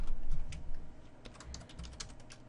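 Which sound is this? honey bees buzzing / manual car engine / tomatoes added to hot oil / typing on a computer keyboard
typing on a computer keyboard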